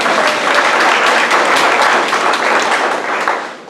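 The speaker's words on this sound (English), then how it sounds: "Big round of applause." A room of attendees at a village council meeting breaks into a big round of applause, loud dense clapping that holds steady and fades slightly at the end.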